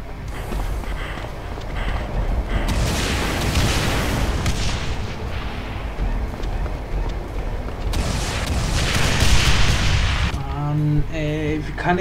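Heavy booming gunfire in Brutal Doom's Extermination Day, a realism tactical survival horror mod: two long, loud bursts of dense, rumbling shots separated by a quieter gap, ending in a short mechanical rattle.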